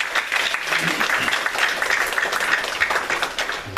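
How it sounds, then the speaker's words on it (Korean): A church congregation at a Sunday worship service claps in welcome, a steady, moderately loud patter of many hands filling the room without a break. "우리 모든 이들 환영하는 격려의 박수 하도록 하겠습니다"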